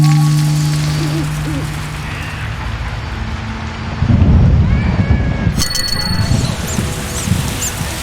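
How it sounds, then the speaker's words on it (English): Rain and thunder in The Witcher video game: a steady hiss of pouring rain, with a deep rolling rumble of thunder swelling midway, then some higher chimes and tones layered over the storm. "It rains and it pours."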